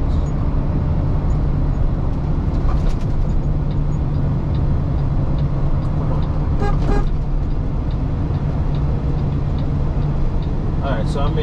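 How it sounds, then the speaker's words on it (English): A Kenworth T880 truck with a 10-speed transmission rumbles loudly as it downshifts through lower gears, with a heavy continuous engine drone, a few brief higher tones and someone talking over it. "downshift the lower gears."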